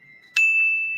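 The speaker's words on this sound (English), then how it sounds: "Let me give you the bell." A single bright bell ding strikes once and rings on with a sustained, clear tone, loud and close, alone without voices.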